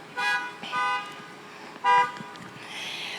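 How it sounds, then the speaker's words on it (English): Car horns honking at a drive-in town hall event, several separate toots and beeps from different vehicles at moderate distance, one louder blast near the end. "Honk your horn for me and let me know."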